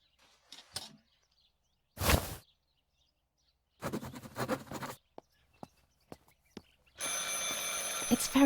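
A telephone rings in the video game Martha Is Dead, a few separated bursts of ringing among quiet gaps, with scattered clicks and a steadier tone near the end.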